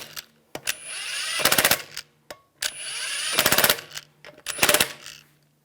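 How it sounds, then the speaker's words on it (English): An impact wrench snugs down the wheel lug studs on a 2001-2006 BMW 325Xi, close and loud, with several spin-up whirrs each ending in rapid hammering bursts, separated by brief pauses. "Get the lug studs started. Snug those all down."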